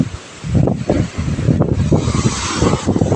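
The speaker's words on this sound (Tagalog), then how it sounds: "Napakalakas sa hangin" Strong morning wind gusting outdoors near the sea and a house: a loud, rough broadband roar that swells and buffets in uneven gusts, close to the microphone, with no one speaking.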